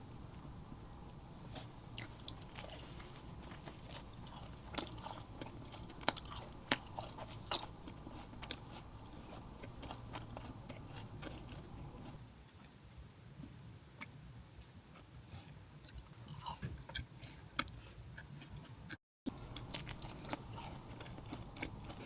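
Southeast Asian sandwich being bitten into and chewed close to the mic, with dense crunchy and squishy mouth sounds going on throughout, a brief silent gap near the end, and no talking.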